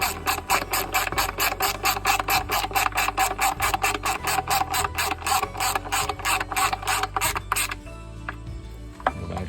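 A hand ratchet tightens injector bolts on a Cat 3126 diesel engine in a fast, even run of sharp clicks lasting about eight seconds, close and loud, then stopping, with a few light metal knocks after.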